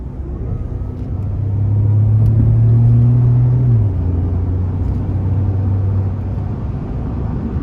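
A 2013 Ford F-150 XLT SuperCrew pickup with the 3.5-litre twin-turbo engine accelerates in manual mode, a loud, close cabin rumble and engine drone that rises in pitch, then shifts and drops, with no talking.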